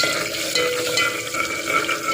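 Dried red chillies being sautéed and stirred with a ladle in a pan for Madras-style rasam, giving a steady hiss of frying with scraping and stirring, close and continuous with no talk.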